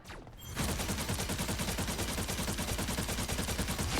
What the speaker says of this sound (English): her primary fire is her telepathic pulse